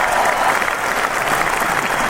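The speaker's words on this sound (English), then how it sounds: "a nice round of applause for them" Applause from a studio audience during a college football odds show, a dense burst of clapping that stays loud and steady throughout, heard alone.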